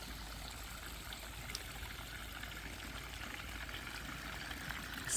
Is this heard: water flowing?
yes